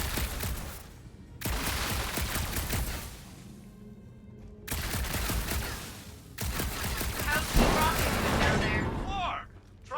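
Gunfire in a Star-Lord action game, heavy crackling volleys in several separate bursts broken by short gaps, with voices speaking among the shots.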